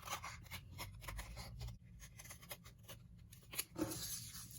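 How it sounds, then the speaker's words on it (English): Paper scissors snip through felt fabric while cutting out a circle, giving a series of quiet, close crunching cuts with soft rustling between them. "you use some paper scissors, and you can cut this circle out using the felt as a guide"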